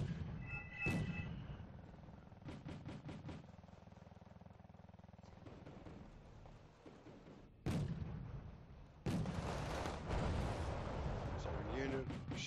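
Artillery shelling in the Wargame Red Dragon strategy game: a sharp boom near the start, then heavy rumbling impacts and gunfire crashing in twice later, loud and sustained, with game battle noise throughout.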